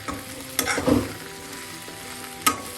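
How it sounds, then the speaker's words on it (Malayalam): Okra and potato frying in oil with garam masala, a steady soft sizzle broken by a couple of sharp spoon knocks against the pan as the mixture is stirred. "എല്ലാം കൂടെ ചേർത്തൊന്ന് ഈ ഓയിലൊന്ന് മൂപ്പിക്കാം അതിനുശേഷം നമുക്ക് ഇളക്കാം"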